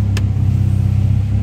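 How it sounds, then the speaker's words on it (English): A Honda Civic engine idles steadily with the air conditioning running, a constant low rumble close by that carries through the whole short stretch without a break. "I got the car running, obviously."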